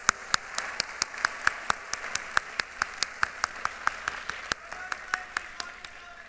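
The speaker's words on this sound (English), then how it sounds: "Could we hear just one more round of applause for you?" Clapping at a pharmacy school graduation ceremony, heard as a steady run of sharp, evenly spaced claps, like one person or a few in unison, fairly faint and alone over a quiet room tone.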